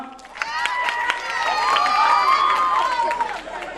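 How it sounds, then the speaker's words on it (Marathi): A village birthday-celebration audience cheers loudly, with shouting voices and scattered clapping mixed into a continuous crowd roar. "जोरदार टाळ्या वाजवा."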